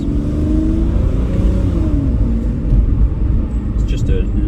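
A 2014 Aston Martin Rapide S saloon with a 5.9-litre V12 engine being driven, its steady deep engine drone rising and falling slightly with road rumble, heard from inside under a man's speech.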